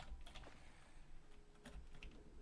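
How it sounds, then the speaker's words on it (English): Computer keyboard keys pressed during a Terraria game session, with soft, quick clicks in irregular little bursts, faint and close with no voice over them. "Trying to right click and push every button on my keyboard"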